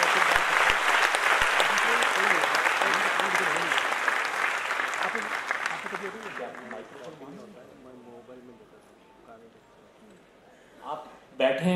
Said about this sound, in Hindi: हम चाहते हैं तालियों से एक बार उनके प्रति फिर सम्मान व्यक्त करें।